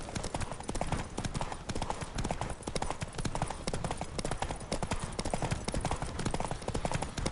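Horse hooves gallop in The Witcher video game, a fast, dense, continuous drumming of clip-clop beats that stays loud and close throughout, with faint game sounds in the background.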